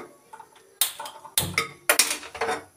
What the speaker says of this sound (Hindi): मैं कर रही गैस चालू